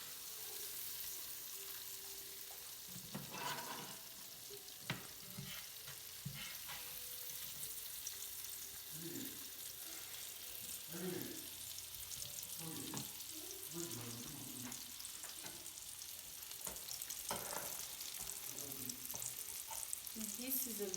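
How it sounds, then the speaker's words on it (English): Egg and plantain frying in a pan, a steady sizzle and crackle throughout with occasional stirring and scraping sounds, fairly close and continuous. "Now our egg is fried and food is ready to serve."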